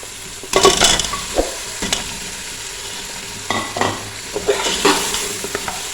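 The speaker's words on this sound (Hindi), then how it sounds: "अब इसमें साथ ही डाल देंगे पाए ताकि मसाले के साथ साथ जो पाए हैं वो भी अच्छे से भून जाए" Mutton trotters frying with masala in a pan, stirred with a flat spatula: a low sizzle broken by bursts of scraping and clanking strokes, loud and close.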